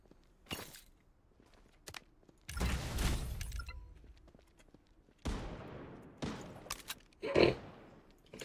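Bursts of gunfire from the shooter game Blood Strike come in several separate volleys, some sharp single shots and some longer rattling bursts, with quiet gaps between and faint footsteps.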